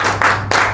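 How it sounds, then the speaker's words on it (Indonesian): Audience clapping in unison at the close of a motivational training session, two sharp group claps landing in rhythm, loud and near. "Sebelum saya menutup, tepuk dulu dong."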